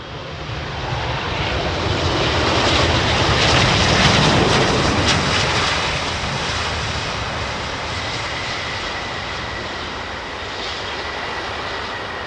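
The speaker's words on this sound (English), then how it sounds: "Dreamliner with another Dreamliner with gear down" A Boeing 787 Dreamliner jet flies overhead with its landing gear down, a loud, broad, steady roar that swells and then slowly eases, with no voices.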